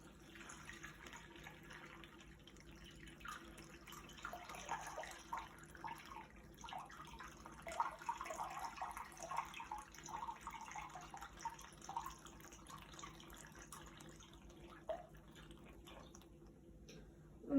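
Warm water runs into an enema bag, a soft steady trickle and splash that swells and fades over several seconds, faint and close with a quiet room behind.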